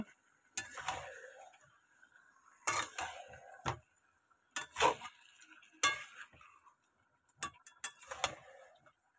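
Curry being stirred and sautéed in a cooking pan, with a utensil scraping and clinking against the pan in irregular, separate strokes, fairly near and moderately loud, with quiet gaps between the strokes.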